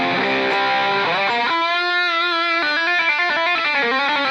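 An electric guitar run through stacked overdrive and distortion pedals, playing a few sustained, heavily saturated chords that shift in pitch and ring out loud and close, with no talking.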